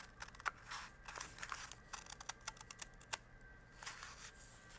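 Scissors cut through craft paper along a line in a series of quiet, close snips and crinkles with a brief pause before a few final cuts.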